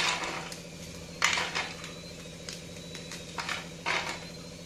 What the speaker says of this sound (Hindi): अभी इसको हम छोटे छोटे टुकड़ों में तोड़ लेंगे हाथों से।